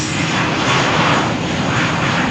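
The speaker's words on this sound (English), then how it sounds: "British Airways flight to London Gatwick, cleared for takeoff" A British Airways airliner roars down the runway on its takeoff roll at Malaga Airport on a stormy morning, its engines producing a loud, steady, broadband rumble that fills the whole clip without pause.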